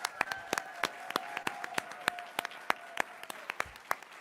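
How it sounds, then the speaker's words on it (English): Clapping from the audience at a college quiz championship, a moderate round of individual claps with distinct sharp hits at an uneven rhythm, heard fairly close and fading slightly toward the end. "Give them another round of applause for that"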